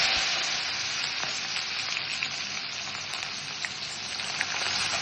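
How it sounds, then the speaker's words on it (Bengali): Chopped onions frying in hot oil with dried red chilli and fenugreek seeds, a loud, continuous, close-up hiss and crackle that holds steady throughout with no voices. "পেঁয়াজটাকে গোল্ডেন ফ্রাই করে ভেজে নেব।"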